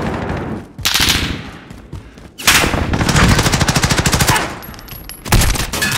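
Automatic gunfire in the game Call of Duty: Modern Warfare, Domination mode on the Vacant map, with loud rapid bursts of shots separated by short pauses, close and dominant.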